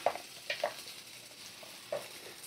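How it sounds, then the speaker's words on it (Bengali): Chopped onions frying in oil over a medium flame, giving a soft, faint sizzle with a few brief stirring scrapes near the start and one more toward the end, with no talking. "পেঁয়াজটা একটু ভালো করে ভাজা করে নেব।"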